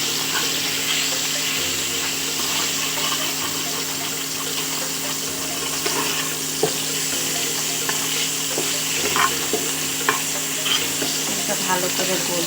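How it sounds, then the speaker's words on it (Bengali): Pangas fish frying in its own rendered fat and oil in a pan, giving a steady close sizzle with some stirring and scraping clicks throughout, and no talk. "এই তেলে আমার মাছ ভাজা হয়ে যাবে।"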